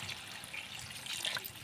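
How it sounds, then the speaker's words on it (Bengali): Water splashes and trickles into a pot of cauliflower and potato curry, a brief, soft liquid pour at close range. "এবার কিন্তু জলের পরিমাণটা আমি আর একটু দিয়ে দিলাম।"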